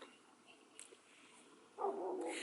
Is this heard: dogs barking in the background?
yes